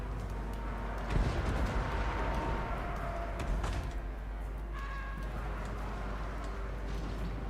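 Organ guns firing in Total War: Warhammer, a ragged burst of booming artillery cracks over a dense battlefield rumble, with a sharp volley near the start and another shortly after, then continuing low combat noise.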